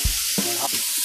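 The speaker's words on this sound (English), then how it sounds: "Now we're gonna put half of the vegetables from each pile over each pan." Vegetables hit hot butter in frying pans while making butter chicken, a steady broadband sizzle broken by a few low thumps and clatters as they land, close and moderately loud with no talking.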